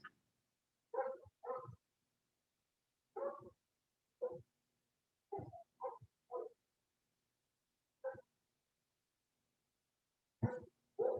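Dogs bark in short separate bursts, sometimes in quick pairs, heard faintly in the background with long quiet gaps between them and no one talking.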